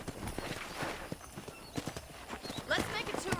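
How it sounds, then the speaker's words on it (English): Horse hooves clip-clop steadily in the Western video game Red Dead Redemption, a quick rhythmic clatter with an occasional whinny, heard under people talking. "I picked out a fine horse for you."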